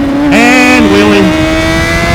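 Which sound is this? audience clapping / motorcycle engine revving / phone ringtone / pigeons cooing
motorcycle engine revving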